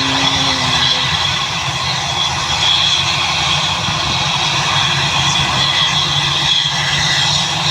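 Passenger airplane taking off, a loud steady jet engine roar with broad hiss and low rumble holding constant throughout, no voices.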